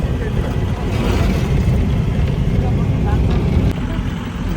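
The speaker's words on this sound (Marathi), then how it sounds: "त्या गाडी आहे तो चाललं" A car engine drones low and steady on a mountain road in Spiti Valley, Himachal Pradesh, heard from inside a moving vehicle with a loud rumble and people talking over it.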